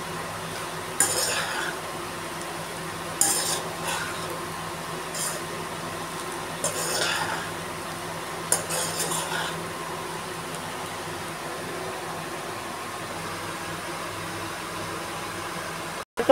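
A spoon scrapes and clinks in a pot several times at irregular intervals while coriander powder and pepper powder are stirred into a paneer dish, faint over a steady background hiss.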